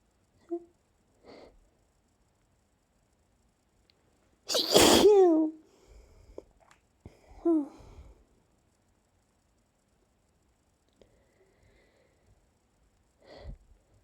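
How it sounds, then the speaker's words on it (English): One sharp, loud sneeze bursts out of near silence, followed by a softer breathy sound and a few faint sniffs and rustles. "sneeze."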